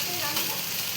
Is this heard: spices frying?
yes